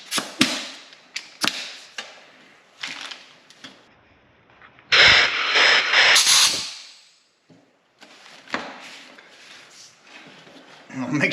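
Compressed air blasts through a nylon tube of a throttle and kickdown cable on a '64 Ford F100, one loud sustained hiss of about two seconds between scattered handling clicks and taps.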